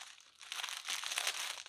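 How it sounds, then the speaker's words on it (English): A plastic bag crinkles and rustles as a K by K Collections package is opened, bursts of crackling rising and falling for under two seconds, fairly close and with no talking. "It's in a plastic bag."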